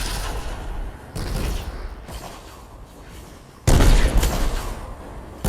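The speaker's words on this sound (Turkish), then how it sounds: "Üstten bombalar yağdırılıyor." Bombs dropping from above and gunfire in a video game battle: heavy booming blasts and bursts of shooting, with loud impacts near the start and a louder barrage in the last seconds.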